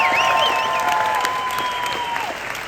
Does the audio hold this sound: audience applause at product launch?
yes